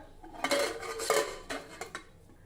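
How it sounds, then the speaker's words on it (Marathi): The metal lid of a pressure cooker, with black chickpeas cooking inside, is fitted and shut. Several sharp metallic clanks and short scrapes sound close by in a quiet kitchen. "कुकरचं झाकण बंद करूया"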